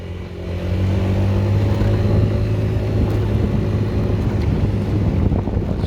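A car drives along a road with a constant low engine drone and rumble, overlaid by loud wind buffeting that holds steady throughout.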